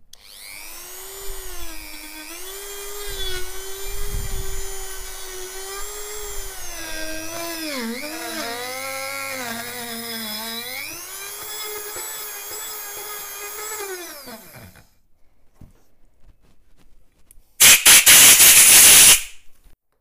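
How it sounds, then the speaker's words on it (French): Steady whining, rasping rotary wire brush working on café racer motorcycle brake parts for about fifteen seconds, pitch dipping under load, then silence and a brief harsh burst of noise at the end. "J'utilise pour cela une brosse métallique."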